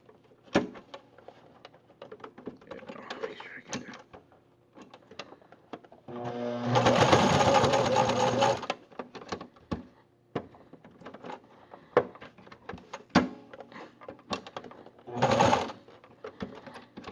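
A sewing machine stitches a full-cotton face mask in a loud, dense burst of about two seconds, with a shorter second run near the end. Quieter handling clicks and fabric rustling fill the gaps between runs.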